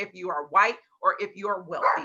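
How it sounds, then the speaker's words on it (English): A dog barks in short bursts beneath a person talking steadily close to the microphone, the barks partly masked by the voice. "I'm sorry if you hear my dog barking"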